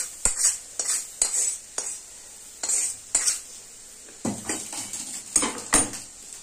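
Cooked spinach (shak) stirred and scooped out of a kadai with a metal spatula, sharp scraping clinks in an irregular rhythm over a faint sizzle, close and fairly loud.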